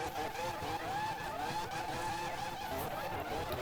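Race cars launching together at the start of a sim racing event at Paul Ricard, a dense continuous engine roar with faint tire squeal, steady and loud, a commentator's voice barely present underneath.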